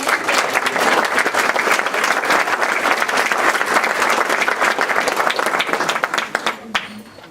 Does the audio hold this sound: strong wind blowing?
no